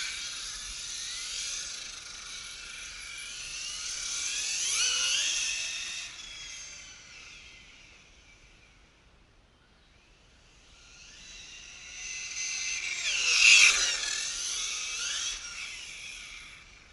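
A Hobao Hyper SS 6S brushless RC cage buggy runs on asphalt, its high-pitched electric whine swelling as it approaches, fading as it moves away, then rising again on a second close pass.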